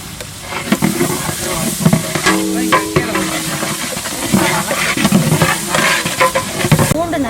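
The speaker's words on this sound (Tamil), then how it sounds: "பூண்டு நல்லா வதக்கியாச்சு." Garlic paste, about 2.5 kg, sautéing and being stirred in a large pot of browned onions for mutton biryani, giving a steady loud sizzle with repeated scraping and stirring strokes throughout.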